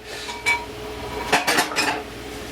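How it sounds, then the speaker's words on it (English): Metal cooking utensils clink against a pot or pan in a home kitchen while beef cooks for egg-and-beef rice, a wooden spatula being picked up; a few separate clattering knocks, close and fairly loud, with no talking. "I'm going to switch over to my spatula"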